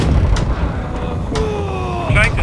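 Naval cannon fire in the pirate ship game Blackwake, heavy booms set among a dense, noisy battle mix.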